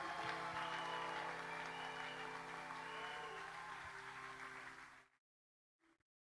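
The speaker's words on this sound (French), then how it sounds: "Encouragez-les en acclamant très fort le Seigneur." A church congregation at a Congolese gospel service applauds and cheers loudly and steadily for about five seconds, the dense clapping fading slightly before cutting off abruptly, leaving near silence with one faint brief sound afterward.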